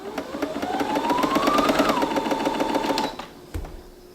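A Brother ST150HDH sewing machine stitches by itself without a foot pedal, its rapid needle clatter speeding up and rising in pitch, then settling at a steady pace before stopping, close and clear with no talk.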